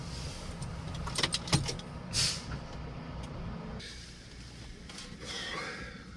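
A DAF XF HGV truck turning around: engine rumble throughout with a hiss like an air brake release, some clunks and rattles, close and steady.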